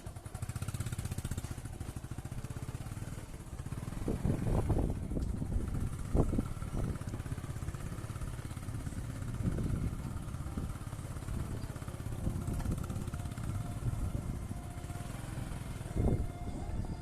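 A farm tractor engine runs at a steady, continuous low rumble, fairly close, with a few brief louder bursts and knocks along the way, on the way to a field to spread fertilizer.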